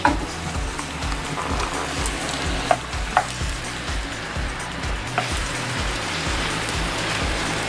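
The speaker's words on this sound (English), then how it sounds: "We're gonna get the bananas cooking here for a little bit" Bananas cooking in a pan with about eight tablespoons of butter for a banana flambé, giving a steady crackling sizzle with a few sharper pops, close and continuous, no talking.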